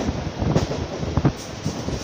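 A Mumbai local train running from Chhatrapati Shivaji Terminus toward Kalyan Junction, heard from on board as a steady rumble with rhythmic clacks of the wheels over rail joints and wind buffeting.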